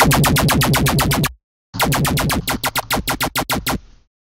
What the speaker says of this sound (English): this is a tutorial on a machine gun bass that I had in my song